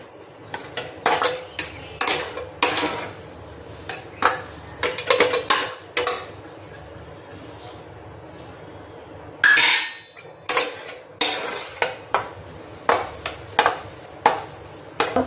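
A spoon stirs a fresh coconut mixture cooking in a pan, making sharp, repeated clinks and scrapes in bursts with a short quiet gap midway.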